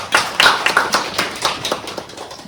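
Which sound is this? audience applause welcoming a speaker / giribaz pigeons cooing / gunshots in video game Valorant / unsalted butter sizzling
audience applause welcoming a speaker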